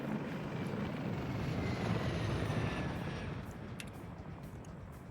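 A helicopter passes overhead in the Arma 3 video game, its steady rotor and engine rumble holding broad and fairly loud throughout before easing off slightly toward the end, with no voices.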